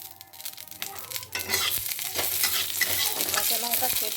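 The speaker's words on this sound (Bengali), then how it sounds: "এবার আমি ওটা কাঁচা লঙ্কা দিয়ে দিলাম।" Green chillies hit a hot frying pan and are stirred, with scraping and crackling over a rising, steady close sizzle.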